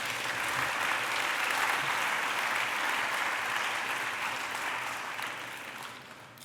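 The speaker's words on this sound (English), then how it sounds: "I want you to make another applause for the panelists." A crowd at a community block party awards event claps loudly and continuously, a dense wash of applause that gradually thins and fades toward the end.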